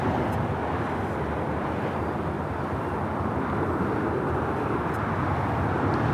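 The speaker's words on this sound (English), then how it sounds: "This is China Airlines, the A350-900, arriving here on the south side." A China Airlines Airbus A350-900 arrives at LAX on the south side runway, a steady, moderately distant jet roar holding level without voices.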